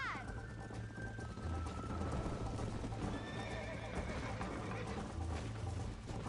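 Horse hooves clip-clop steadily at a gallop while riding in the Red Dead Redemption game, with whinnies, faint bird coos and a low rumbling ambience underneath.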